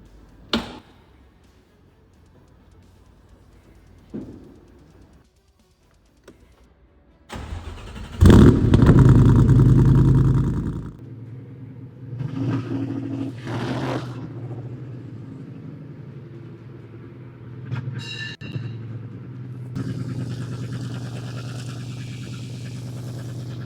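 A 460 hp Cobra recreation sports car engine starts and idles low, then roars into a loud, close acceleration burst before settling into a steady rumble with further revving on the road.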